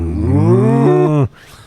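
A person imitates a cow, holding one loud, deep, droning moo for just over a second before it cuts off abruptly into near silence.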